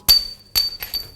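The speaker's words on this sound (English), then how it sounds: "you can just take a hammer, just try to tap that out a little bit" A few sharp hammer taps strike a metal strut assembly part on a Volkswagen Jetta, each with a short bright ring; the last two come in quick succession.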